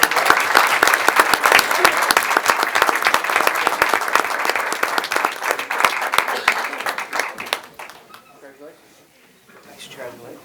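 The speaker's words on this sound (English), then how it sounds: "Let's give all of our warriors a big round of applause." A large crowd at a school board meeting claps in sustained, dense applause for about eight seconds, then it fades out to near quiet with a little scattered noise at the end.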